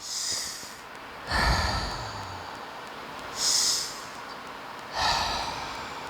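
Three deep breaths, each a long whooshing exhale through the nose or mouth, held in a low hip-stretch position, close and fairly quiet with gaps of stillness between them.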